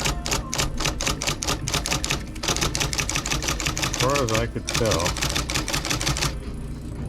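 Typewriter keys are struck one after another in quick rhythmic clacks to check that each works, with someone talking briefly over the typing.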